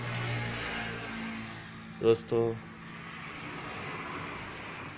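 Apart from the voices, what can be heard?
old black engine running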